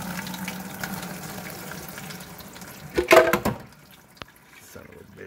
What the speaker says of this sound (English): So we'll just let all that strain on through